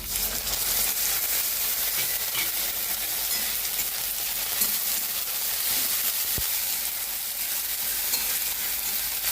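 Ginger frying in hot oil for a light chicken curry, a dense continuous sizzle and crackle with scattered sharp spatters and occasional stirring clicks, close and steady throughout.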